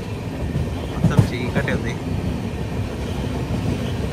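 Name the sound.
Gowthami SF Express train running past Chandanagar station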